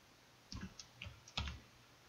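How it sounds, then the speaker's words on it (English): Quiet keystrokes on a computer keyboard, five or six soft taps spaced unevenly over about a second, with a faint background hiss. "I warned you about the typing."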